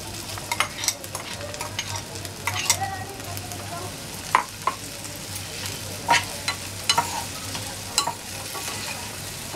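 Boiled potatoes being stirred into a hot pan for a dry Marathi potato bhaji, with a steady low sizzle broken by repeated sharp scraping clicks of the spoon against the pan, close and fairly quiet, with no talking.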